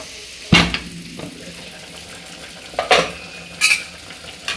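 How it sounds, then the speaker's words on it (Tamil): Vegetable biryani being stirred in a pot just opened after steaming on low heat: three distinct scraping strokes of a ladle against the pot, close and fairly loud, with a quiet sizzle between them. "கிளறி விடுவோம்"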